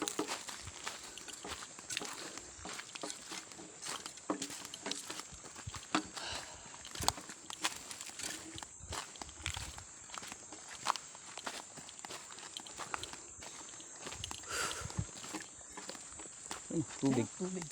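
Footsteps crunching steadily along a mountain hiking trail, close and continuous for the whole stretch, with a constant high insect drone behind and occasional brief voices.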